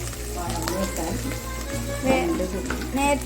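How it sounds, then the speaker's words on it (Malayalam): Garlic, coriander leaves and curry leaves sizzle and crackle as they sauté in a pan for a Kerala tapioca biryani. The frying is steady and mostly under a person's talking. "നമ്മൾ ആ വെളുത്തുള്ളിയൊക്കെ ഒന്ന് വഴറ്റിയെടുക്കണേണ്"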